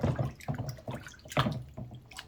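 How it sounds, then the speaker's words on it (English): A miniature Warhound Titan model being rinsed in a container of rinse water after scrubbing: soft sloshing and dripping splashes in a few short bursts, close and fairly quiet, with no talking. "give it a bit of a rinse, put it in your rinse water"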